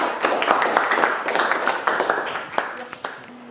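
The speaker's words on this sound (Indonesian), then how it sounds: "Tepuk tangan dulu." Classroom group applauding after student presentations, a steady patter of many hands that thins out toward the end into a few scattered claps.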